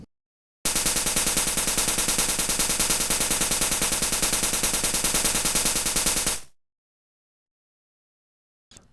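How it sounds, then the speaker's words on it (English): Trap-beat hi-hat playing a fast, dense one-step pattern: rapid crisp ticks in a steady stream for about six seconds, loud and alone, then cut off abruptly. "Then like a one-step hi-hat pattern."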